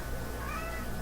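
A pet cat at home lets out a single short, faint meow, close by but soft against a steady room hum.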